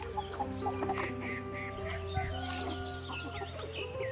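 Chickens cluck repeatedly in a rural Uttarakhand yard, a mix of short, close clucks and calls over a steady background, with no one talking.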